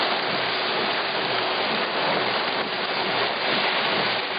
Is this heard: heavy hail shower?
yes